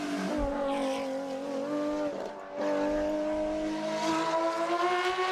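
A BMW M1 ProCar with a naturally aspirated 3.5-litre inline six races at full throttle, its loud, rising engine howl broken by a brief lift around a gear change before climbing again.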